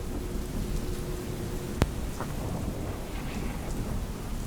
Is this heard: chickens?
no